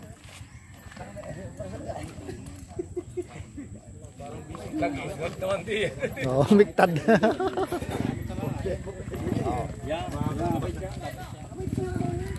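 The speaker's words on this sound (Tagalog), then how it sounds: "ito ang pinakamatuling kabayo" Horse hooves clip-clop steadily through a horse ride, with people talking and calling out over the hoofbeats throughout.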